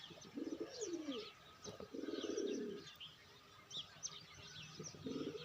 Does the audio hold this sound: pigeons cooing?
yes